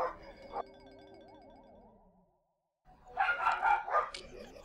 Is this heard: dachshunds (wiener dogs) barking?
yes